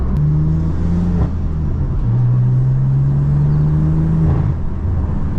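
Deep, loud exhaust note from a BMW M4 Competition with an AWE SwitchPath system, holding a low drone before one long, climbing rev that drops off sharply near the end.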